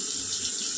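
A small splash of water poured into a cooking pan of ground cumin, coriander, turmeric and chili for a spicy green tomato dish, heard as a short, steady, close hiss of running water with no talking.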